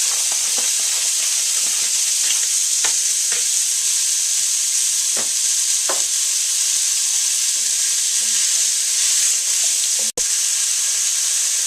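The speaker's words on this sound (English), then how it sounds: "So, browning the aromatics to produce more flavor." Aromatic vegetables browning in a pot for a beef pot roast give a steady, close sizzle with scattered crackles and pops, heard alone with no talk.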